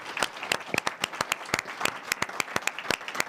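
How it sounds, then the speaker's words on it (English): A small audience claps after a 2025 mayoral debate in Peru, Illinois: sparse, distinct hand claps from a modest crowd, close and fairly quiet, with no voices over them. "Can we give them another round of applause, please?"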